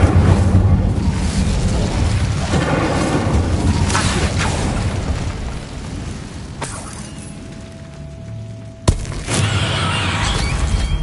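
Incendio fire spell cast in a Harry Potter setting: a loud, rushing roar of flame that bursts out, then fades, with a sharp crack and a renewed surge of burning near the end.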